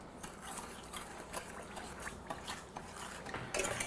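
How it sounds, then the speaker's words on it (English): Sugar and water syrup stirred in a pan for saffron-flavored fritters: a steady, fairly faint close-up scraping and swishing with light liquid sloshing and occasional small clinks, continuous throughout. "Stir that up there."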